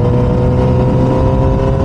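A motorbike engine drones loudly and steadily up close, a constant low rumble with no pauses.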